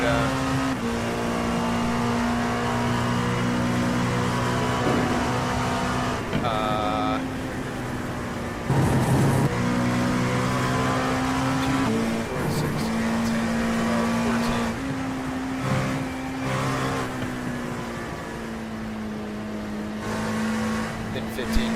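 Race cars in a 24 Hours of Le Mans video game, with a steady engine drone and a faster-class car approaching and passing, heard under ongoing talk.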